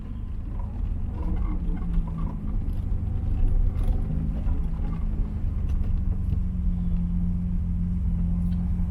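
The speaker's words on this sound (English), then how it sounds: "We're just simply double clutching, helping out the synchros a little bit." A manual-transmission car engine during a double-clutch gear shift, heard as a steady, close, low rumbling drone with a slight swell in the middle and no talking.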